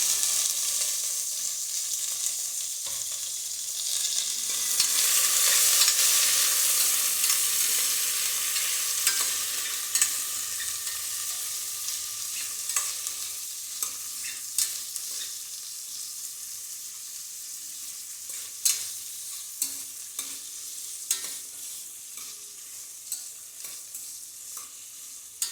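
Sliced onions and green chillies sauté with cashews in hot oil for paneer pulao, a close, steady sizzle broken by scraping stirs that grow into sharper clicks and taps toward the end.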